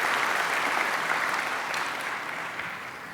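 Audience applause fills a hall during an awards tribute, dense steady clapping close and loud throughout before slowly fading a little toward the end.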